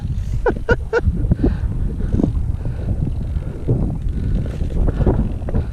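Gusty outdoor wind buffets the microphone while a Russian RC fighter plane kit is flown, a low rumbling roar with a few brief higher squeaks.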